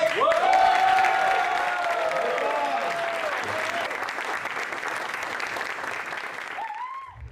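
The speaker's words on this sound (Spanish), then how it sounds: "Uma salva de palmas bem forte!" A loud, sustained round of applause from a crowd at a cultural gathering in São Paulo, with tonal cheers and shouts riding over dense clapping that gradually eases before stopping abruptly.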